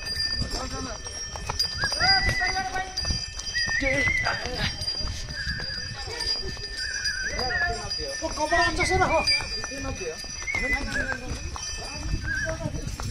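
Horse hooves clip-clop steadily as a rider travels on horseback along a mountain route toward a temple near Muktinath, Nepal, the walking beat continuous under close, ongoing conversation and occasional neighing.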